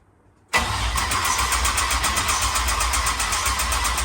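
A Pontiac Firebird engine cranks and catches abruptly after a near-silent moment, then runs with a steady, loud, close rumble.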